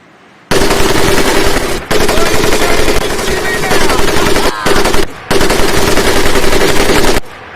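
Sustained machine gun bursts from a mounted weapon in the World War II shooter Medal of Honor Pacific Assault. The fire is loud and close, with long rapid streams broken by three short pauses.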